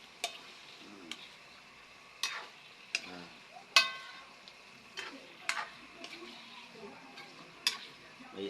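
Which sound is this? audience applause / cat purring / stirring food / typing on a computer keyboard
stirring food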